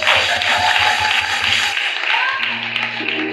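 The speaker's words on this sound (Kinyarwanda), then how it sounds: "Wongere dukomere Imana amashyi menshi." A church congregation claps for God during a worship service, a dense, steady patter of many hands filling the room alongside a low sustained tone, with some voices mixed in.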